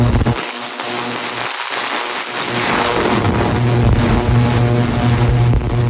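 Ford fuel injectors fire on a test bench, making a loud, steady mechanical buzz that drones without pause for several seconds, with no voices.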